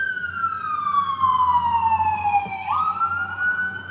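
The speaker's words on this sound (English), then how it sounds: "It's an ambulance." A passing ambulance siren wails in one long falling sweep and then rises again, loud and close over low traffic rumble, with no one speaking during it.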